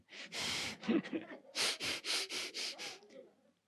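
An audience imitates angry breathing together during a Thai dharma talk: one long rush of air, then about seven short, forceful breaths in a steady rhythm, loud and close.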